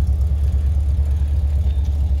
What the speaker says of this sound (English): Exhaust sounds incredible on this car.